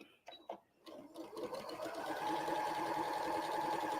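After a few soft clicks and shuffles, a sewing machine stitching quilt pieces together starts up and settles into a steady, close, continuous whir that holds to the end.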